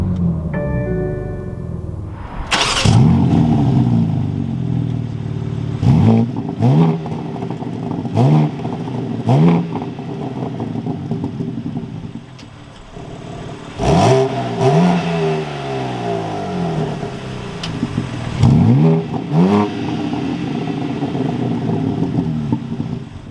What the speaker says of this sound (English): I can go ahead and keep my foot on the brake and we can fire it up